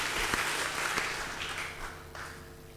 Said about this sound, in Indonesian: Kita berikan tepuk tangan dan silakan dibina